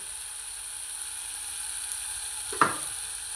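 Potato added to a sizzling chicken curry masala, a steady soft sizzle with a single sharp clatter and hiss burst near the end as the potato drops in.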